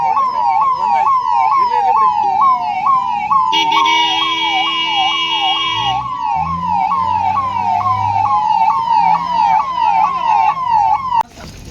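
Loud wailing ambulance siren in Sakleshpur after a bus and tanker accident, cycling rapidly up and down, with a brief horn-like blare partway through and engine rumble underneath.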